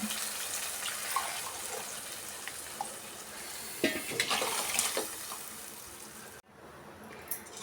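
Water splashes and trickles into a mixer jar holding spice paste, with uneven gurgles and a few clinks, then stops abruptly, leaving a faint hiss.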